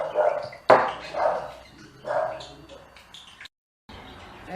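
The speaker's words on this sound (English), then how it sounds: "chattering birds and barking dogs, it's all happening here" A few dogs bark in short bursts at a moderate distance, with birds chirping and cooing around them.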